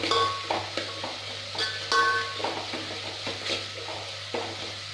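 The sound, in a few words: frying goat head with ginger garlic paste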